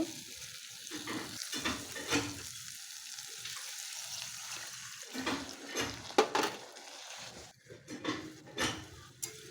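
Frying masala in a pan, cooked down for potol chingri, with scraping stirs and clinks of a utensil against the pan, then bursts of sizzling as a splash of water is added, close and moderately loud with no talking.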